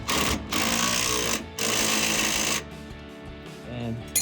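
An impact wrench or ratchet works a rear shock absorber bolt on a 2007-2018 Chevrolet Silverado with a Belltech Street Performance shock, giving three loud buzzing bursts of about a second each, separated by short pauses.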